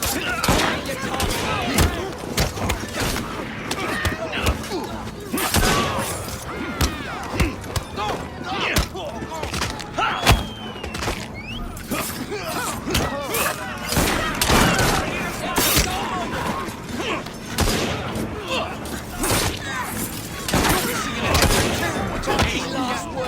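Gunshots in Assassin's Creed Syndicate, many sharp cracks and thumps scattered through a chaotic fight, loud and dense with voices shouting among them.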